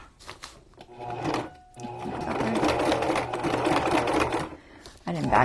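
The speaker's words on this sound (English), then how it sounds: "I didn't backstitch, but I'm going to be sewing it, so it doesn't matter." A sewing machine zigzag stitches a journal cover, a close steady mechanical whir and rapid needle chatter, starting and stopping, with a person talking over it.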